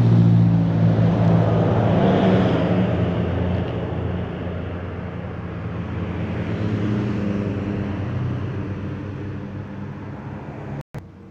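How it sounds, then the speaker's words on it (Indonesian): Prima Jasa Tasik-Bekasi bus on a road bend, a loud, low, droning engine rumble with tonal hum that swells early and gradually fades as it moves away. "Ini ada bis Prima Jasa Tasik Bekasi"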